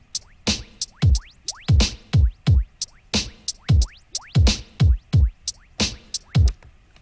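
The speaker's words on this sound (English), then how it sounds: "So I put in a beat, and I set it to an 8-bar loop." An 8-bar drum beat loop played in VirtualDJ, punchy kick and snare hits repeating in a tight, even rhythm, loud and alone with no talk.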